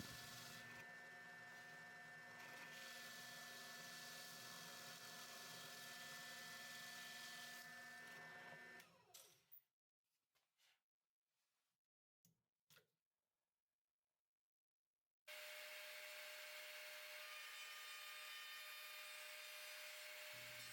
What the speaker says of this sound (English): I took the parts over to my drill press and drilled out the half holes with a